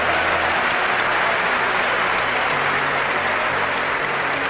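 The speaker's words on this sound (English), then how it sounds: "Give her a round of applause" An audience applauds in a steady, full round of clapping that holds evenly from start to finish at moderate loudness, with no talk over it.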